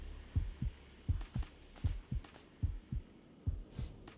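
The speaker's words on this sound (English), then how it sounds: "When you hear that heartbeat, just make sure you crouch" A heartbeat warning cue in the video game Dragon Ball The Breakers, with about eight paired low thumps in a steady rhythm under a faint background hum and brief higher hissy bursts.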